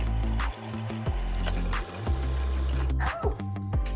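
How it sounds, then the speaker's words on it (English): Running tap water splashes steadily into a kitchen sink as produce is washed for a meal kit dinner, loud and close, with a short break and restart near the end. "So we're going to wash and dry produce."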